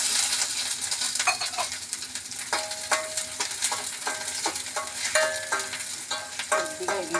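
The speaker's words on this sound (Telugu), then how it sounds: "ఉల్లిపాయ ముక్కలు యాడ్ చేసుకోవాలి." Onion pieces sizzle in hot oil in a pan alongside cashews for a paneer cashew curry, a soft continuous frying hiss broken by repeated scraping stirs and light clinks of a utensil against the pan.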